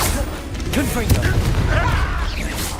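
Explosive Confringo blasting spell in Hogwarts Legacy, a booming burst with crackling debris, arriving amid busy combat effects and a speaking voice.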